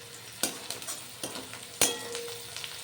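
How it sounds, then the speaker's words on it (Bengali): Green chilies fry in a pan of oil alongside onion, ginger and garlic for a pickle-style dal, giving a steady close sizzle broken by a few sharp stirring clinks. "এবারে লঙ্কাগুলো একটু ভেজে দেব।"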